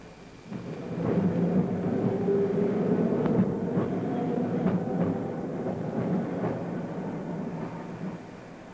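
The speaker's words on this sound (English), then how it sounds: "This private track is where the tram belongs." An old Sheffield tram running along private track, a loud, steady rumble with rhythmic wheel clicks and occasional squeals throughout.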